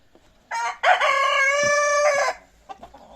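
A loud rooster crows nearby in one long, strained call, preceded by a short squawk, with faint clucks and rustling around it from ornamental free-range chickens in a coop.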